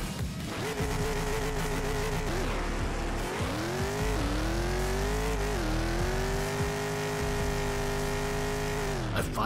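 A Pro Modified drag race car roars through a full pass near 257 mph, its loud engine note climbing and dropping through the gear changes. The sustained engine roar carries on to the end.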